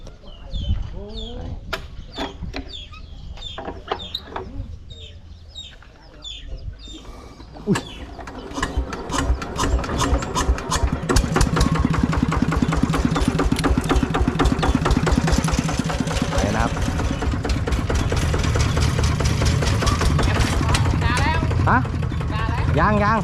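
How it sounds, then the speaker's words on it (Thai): ZT 180 tractor engine starting: several ratcheting cranking clicks and a rough mechanical catch, then a loud, close, steady diesel-like idle with a rhythmic throb, while someone talks at times. "ก็ขอติด เครื่อง ก่อน นะ ผม"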